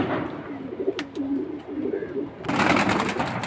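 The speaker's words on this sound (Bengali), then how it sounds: "দুইটা অনেক বড় সাইজের সিলভার কবুতর" Silver pigeons at a pigeon market give low, rolling coos close by, repeating in soft bursts before a louder rush of mixed bird and crowd noise swells near the end.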